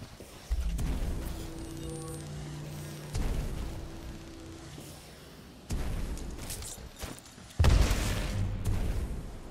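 A grenade explosion in Titanfall 2, heard as a heavy low boom with a rumbling tail late in the clip, amid several earlier bursts of gunfire and game noise with tonal music underneath.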